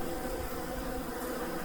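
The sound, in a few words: bees buzzing at a feeder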